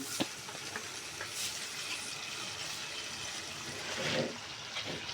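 Gulsha river fish sautéing in oil in a pan, a soft continuous sizzle with light stirring scrapes, fairly faint and close.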